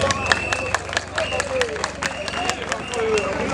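Applause from a crowd at a funeral, scattered clapping over a murmuring hubbub of voices and a low steady drone, with speech running through it.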